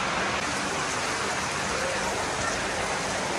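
Heavy rain pours steadily on a school building during a downpour, a dense, loud, unbroken hiss of water with no pauses, close and enveloping, no talking.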